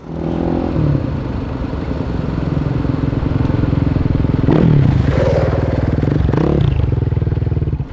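A Dakar rally motorcycle engine runs loud and close throughout, holding a rough, buzzing drone with surges of revving and some rattling clatter midway.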